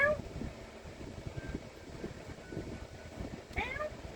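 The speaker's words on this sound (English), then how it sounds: "She's got the softest little meow." A pet cat gives a couple of soft, faint meows near the start and again toward the end, heard against a quiet room with light background rustling.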